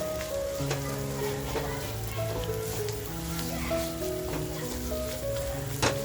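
Crab leg chutney fries in a pan with a steady soft sizzle and crackle, heard up close under a continuous background hum with occasional stirring clicks.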